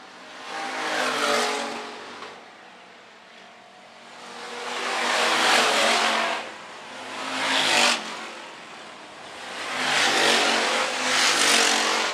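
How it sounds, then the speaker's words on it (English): Hobby stock race cars roar around a dirt oval at Phillips County Raceway, engines swelling and fading in repeated waves as the field passes, with occasional tire noise and no talk. "That first class racing chassis of Tanner Clough is hooked up here tonight"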